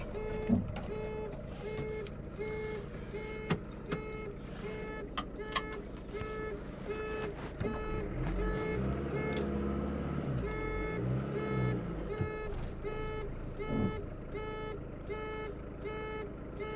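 An Auto-Sleeper Talisman motorhome engine starts and idles steadily, a low rumble with a faint rhythmic warning beep pulsing throughout, moderately loud and close.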